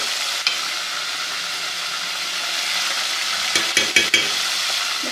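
Spice paste for mash daal hits a hot pan and sizzles in a loud, steady hiss that swells slightly, with a few sharp utensil clicks near the end and no speech.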